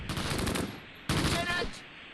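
Two bursts of rapid gunfire in the Close Combat World War II game at St. Mauvieu, Normandy 1944, each a quick rattling volley about a second long, moderately loud with no talk.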